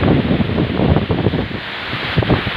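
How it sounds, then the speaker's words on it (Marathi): River water flows steadily through the Purna at Nalni village, a broad continuous rushing wash with surging pulses, close and fairly loud, with no voices. "अतिशय उत्तम पद्धतीनं पाणी या पूर्णेतून वाहत आहे"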